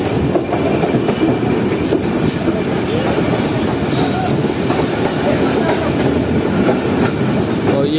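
A Pak Business Express train rolls in alongside a station platform, with a steady, loud rumble of wheels on rails, rattling carriages and faint squeals that continue unbroken throughout.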